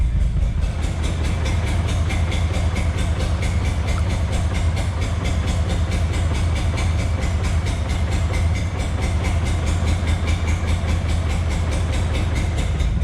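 A BMW E30 engine runs rough with a suspected throttle position sensor fault, a loud, steady, close mechanical drone with a fast uneven pulsing rhythm lasting the whole clip and no speech.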